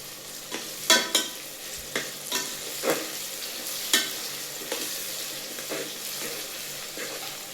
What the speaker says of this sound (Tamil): கொஞ்சம் லைட்டாக வதங்கட்டும் அப்படியே வெங்காயம் எல்லாமே